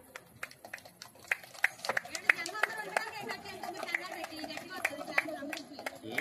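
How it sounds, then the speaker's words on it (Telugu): A small group of people clapping at an engagement ceremony, scattered uneven claps, fairly soft and sparse, under chatter from the gathered guests. "సరే అందరూ క్లాప్స్ కొట్టండి"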